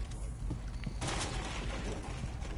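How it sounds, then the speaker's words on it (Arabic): Gunfire in Rainbow Six Siege crackles in rapid, dense bursts, with a louder volley in the middle, over a constant mid-level game background. "رصاص."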